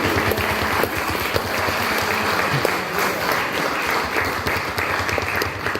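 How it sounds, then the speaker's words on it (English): Audience applause at a Galacon 2016 convention panel, steady dense clapping from a crowd sustained throughout without a break. "mostly applause for yourself, though, because you're sitting here today"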